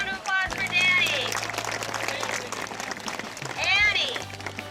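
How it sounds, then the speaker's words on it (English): Audience applause at QuartzFest 2016 as a performer is welcomed, a steady wash of clapping and cheering lasting the whole stretch, swelling near the start and again toward the end, with shouts and voices mixed in. "Everyone give a round of applause for Danny."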